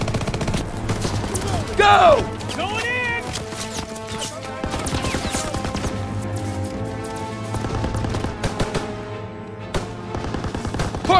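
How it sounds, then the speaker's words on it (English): Machine gun fire in the Call of Duty: WWII video game, rapid bursts amid battle noise with music and shouted voices over the top. "Gotta suppress the machine gun!"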